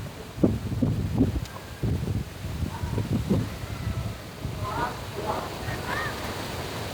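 Wind blowing through a garden in Intramuros, old Manila, before rain; gusty rustling and buffeting against the microphone, with intermittent nearby voices talking underneath.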